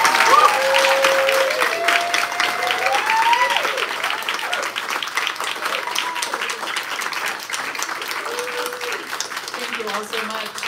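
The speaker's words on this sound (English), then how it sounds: "give the warmest round of applause?" Warm, sustained audience applause at a literary reading, dense and steady throughout with voices talking over it.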